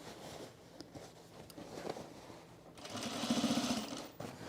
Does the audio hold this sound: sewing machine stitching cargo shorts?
yes